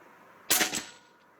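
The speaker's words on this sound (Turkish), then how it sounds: "Ucundan vuruyorum ucundan az daha yukarı al." A Hatsan Hercules 666 .25 calibre PCP air rifle fires a single shot while plinking outdoors. The crack is sharp and loud, followed by a brief decaying tail.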